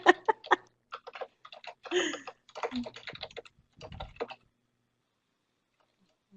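Fast typing on a computer keyboard during a live scrapbooking session: bursts of close, crisp key clicks in quick runs, broken by short pauses, then silence for the last couple of seconds.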